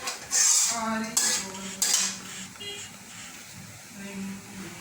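Chillies and black cumin being stirred in a pan, with loud metallic scrapes and clanks of a utensil against the pan over a light sizzle, a few sharp knocks spaced through the clip.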